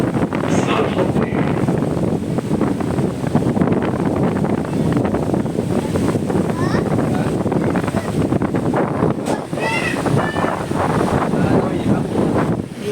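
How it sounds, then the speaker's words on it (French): Sea waves wash at the shore at Saint-Tropez, a continuous broad rushing surge mixed with heavy wind buffeting on the microphone, while people talk over it. "Il y a les vagues."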